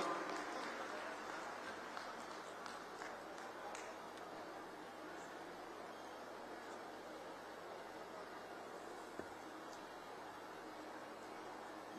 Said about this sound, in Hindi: जोरदार तालियों के साथ माननीय सीएम साहब का अभिनंदन में स्वागत करें